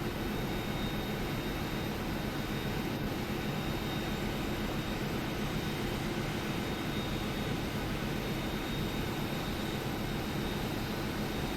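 A Boeing 737-800 jet engine runs in a flight simulator game, producing a steady, dense, broadband roar with a faint high whine that holds constant, with no change in level and no voices.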